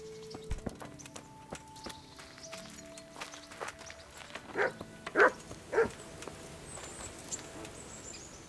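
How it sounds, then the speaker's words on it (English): A dog barks in the video game Kingdom Come: Deliverance, with three short, loud barks close together near the middle, over soft footsteps, hoof clops and a quiet ambient game soundscape. "What's that dog you have here?"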